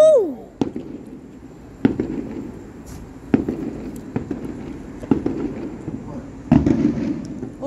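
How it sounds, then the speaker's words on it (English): Fourth of July fireworks bursting outdoors, with five or six sharp, loud bangs spaced about a second apart and rumbling tails between them, while a person talks excitedly at times. "Oh, wow. Huge explosion."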